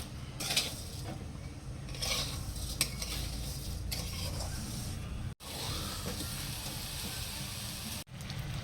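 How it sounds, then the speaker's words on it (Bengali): Boiled papaya and sugar stirred in a pot, with soft scraping and spoon clinks under a steady low hiss of cooking, fairly quiet and continuous. "একটু নেড়ে নেব।"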